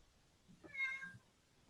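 A domestic cat meows once, faint and brief, over quiet room background during a public meeting, with no talk over it.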